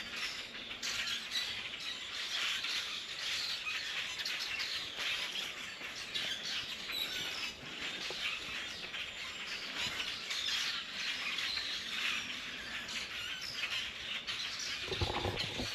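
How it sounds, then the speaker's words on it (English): A flock of starlings calling on a boardwalk trail, a dense continuous chatter of squawks and chirps at moderate distance, with a few louder bursts and faint wing flutters. "Looks like they're starlings."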